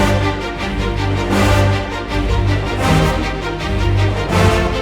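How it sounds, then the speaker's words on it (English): Brass rips in orchestral trailer music for Final Fantasy XVI, with fast upward glissando swells from a lower to a higher octave over a dense, loud brass and orchestral texture, recurring in waves. "These are called brass rips."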